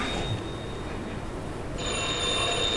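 A telephone rings with a steady, bright electronic tone over a continuous background hum; it sounds close and moderately loud, with no voices.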